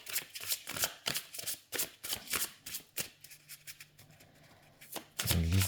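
Arthurian tarot cards shuffled by hand, a close series of quick riffling, sliding flicks in an uneven rhythm, ending with a brief louder rustle.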